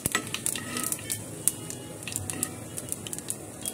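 Fennel seeds sizzling in hot oil with already roasted cumin, cooking for chickpea kebabs, a soft crackling sizzle with scattered sharp pops and light stirring clicks.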